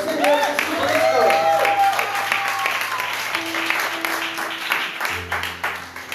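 Church congregation applauding in praise of Jesus Christ, a swell of clapping with cheering voices and sustained tones underneath, loud and close, fading to a softer crowd wash with music continuing.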